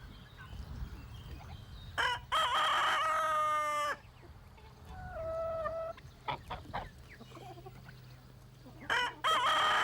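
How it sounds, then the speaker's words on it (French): A rooster crows loudly several times close by, with hens clucking and other farmyard birds calling in the background. "la basse-cour se réveille avec le chant du coq"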